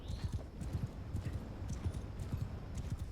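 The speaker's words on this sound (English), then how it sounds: "let's go over here on our apparently not adequate riding skill horse here." Horse hooves clip-clopping in Mount and Blade 2 Bannerlord, a brisk, steady run of close hoofbeats with an even rhythm over about three seconds.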